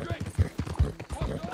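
A horse clip-clops along at a quickening pace through forest ground in Red Dead Redemption 2, rhythmic hoofbeats roughly every fifth of a second, heard close under the player's talk.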